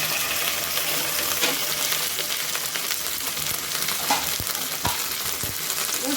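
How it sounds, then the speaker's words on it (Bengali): Potatoes frying in a pan with ginger paste just added, stirred; a continuous moderate sizzle with a few scraping stirs and clinks, no voices. "আলুটা আমার ভাজা হয়ে গেছে, এর মধ্যে আমি আদা বাটাটা দিয়ে দিলাম।"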